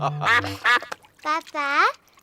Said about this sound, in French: Papa Pig a retrouvé la mare des canards.